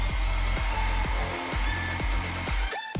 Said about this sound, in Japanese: そこにドライヤーで熱を加える。